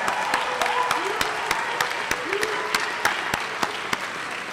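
A small audience at an honors ceremony claps, with sparse, distinct individual hand claps spread through a steady patter, while a voice speaks briefly underneath.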